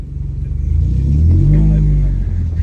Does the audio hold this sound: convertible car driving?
yes